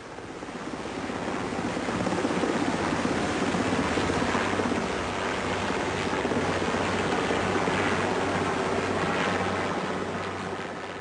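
A helicopter's rotor and engine roar steadily throughout, a constant broad whooshing rumble with a low droning hum underneath and no voices.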